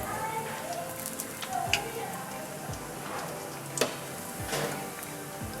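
Medu vada fry in hot oil with a soft continuous bubbling sizzle, broken by a few sharper clinks and pops of turning, with a voice faintly present alongside.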